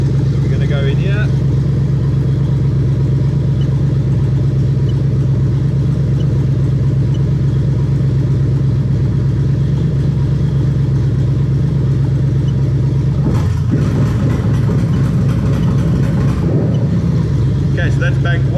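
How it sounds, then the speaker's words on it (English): Toyota 1UZ-FE VVT-i V8 idling steadily, a low continuous engine drone heard up close, briefly disturbed by a clatter of handling noise near the end. "you can hear the engine, the revs are climbing up as it's doing it as well"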